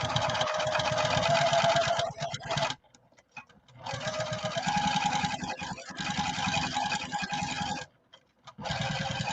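A sewing machine stitches straight lines through fabric for a beaded necklace, a fast steady mechanical whir running in long bursts, stopping briefly twice and then starting again, close and with no talk.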